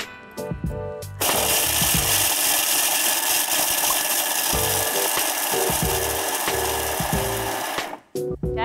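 A blender blitzes cake mixture for a trifle in one loud, continuous whirring burst lasting about six seconds, preceded and followed by brief clattering.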